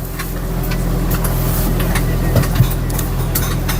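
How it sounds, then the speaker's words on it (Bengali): Hybrid Toyota Corolla Axio Fielder with about 116,000 km, its petrol engine cutting in and settling to a steady idle: a constant low hum with a faint mechanical whine, close by, and no talking. "গাড়িটা আবার ইঞ্জিনে চলে গেল"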